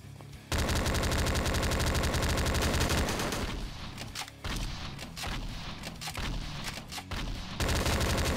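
Continuous SMG fire in Slendytubbies 3 infection mode, a dense sustained stream of rapid shots running almost without pause, loud and close over a droning background.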